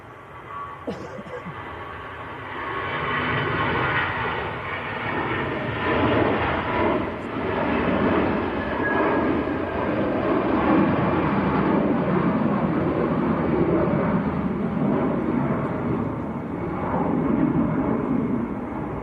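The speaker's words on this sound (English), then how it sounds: "Next departure's on the roll as well. And this is EasyJet to Zurich." An EasyJet Airbus A320 bound for Zurich takes off from Manchester Airport, its jet roar holding as a steady, broad, distant rumble for the whole stretch.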